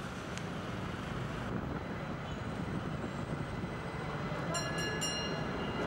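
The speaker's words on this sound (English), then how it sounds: "Transport Minister Mihalis Liapis said that the new tram would help facilitate the transportation of people around Athens" A new city tram in Athens rumbles past as a broad, steady rolling noise with wind buffeting, a few faint high squeals and chimes near the end, and no talking.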